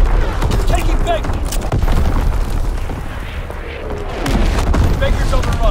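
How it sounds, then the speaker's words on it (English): An enemy artillery barrage in the video game Call of Duty: WWII, with heavy booming explosions and rumbling blasts layered over scattered gunfire, continuous and loud, while voices talk. "Incoming enemy artillery!"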